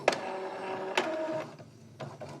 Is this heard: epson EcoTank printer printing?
yes